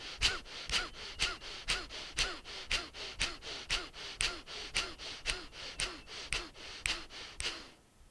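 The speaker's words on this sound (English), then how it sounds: "Now we're going to do rapid inhalations, rapid exhalations to the count of 10." Rapid bellows breathing in Bhastrika pranayama: about twenty forceful, evenly paced breaths through the nose, close and steady, then a stop.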